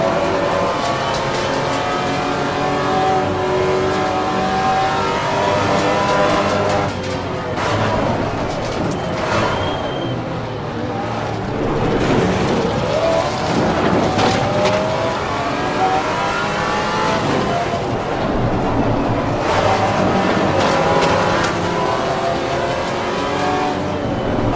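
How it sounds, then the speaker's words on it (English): A GT4 race car engine in Assetto Corsa Competizione, a loud, raw, continuous engine note rising and falling through gear changes and corners, with occasional tyre noise and no talk. "want you guys to listen to that engine sound, because it's actually very raw."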